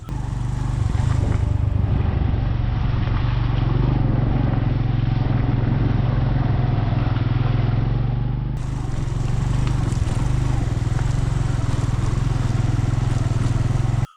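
A motorcycle rides along at dusk, its engine a loud, steady, close drone with brief clattering at the start and a constant low rumble throughout.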